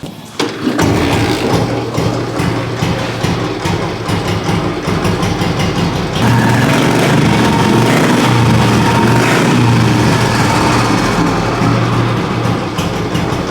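A heavy vintage Royal Enfield motorcycle engine starts up and settles into a loud, steady, throbbing idle, running continuously close by.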